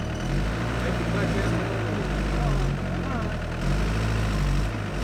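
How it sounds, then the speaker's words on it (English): A 1984 Dodge D50 diesel turbo pickup engine is revved while the truck sits slightly stuck, giving a loud, steady low rumble that swells and eases, with a voice speaking over it. "Give it some gas"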